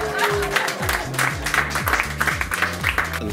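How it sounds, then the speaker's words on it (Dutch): Crowd applause for two organisers at a cycling classic in Sint-Truiden, Belgium; scattered, uneven claps ring out over a loud tonal background sound, lively and fairly near. "En dat applaus voor Jon en Karin!"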